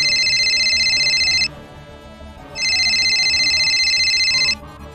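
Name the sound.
telephone ringing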